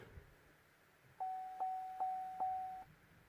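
Switching on the ignition of a Vauxhall Zafira C 2.0 CDTI sets off four evenly spaced dashboard chimes, close and clean in a quiet car cabin.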